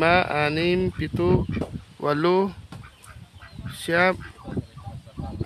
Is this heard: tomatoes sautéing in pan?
no